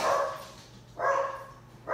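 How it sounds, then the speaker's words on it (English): Two or three excited pet dogs bark at home in short bursts about a second apart, moderately loud indoors. "my dogs are going crazy"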